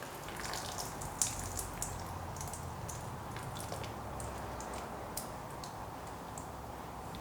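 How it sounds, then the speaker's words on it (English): Steady trickling and dripping water pouring out of holes drilled in a sailboat hull, with scattered small ticks and splashes, fairly close, running continuously with no voices. "Water actually came pouring out."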